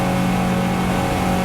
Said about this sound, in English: Hutch Todd revs it up.